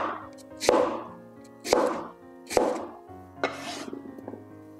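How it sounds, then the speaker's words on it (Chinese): Potatoes being sliced with a crinkle-cut wavy knife on a board: four distinct, fairly close chopping thunks spaced about a second apart, each with a short crisp edge, alone without talk. "用波纹刀切出来的土豆会更加的入味"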